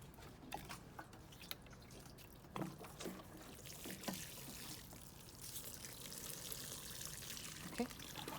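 Water pours and drips onto newly planted lettuce seedlings in a garden, with soft splashes and trickles coming in short bursts over a steady background.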